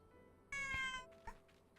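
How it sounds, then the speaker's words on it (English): Cats in a video game let out two short meows, the first longer and tonal, the second a brief chirp, clear over a quiet background. "Ah, kitties."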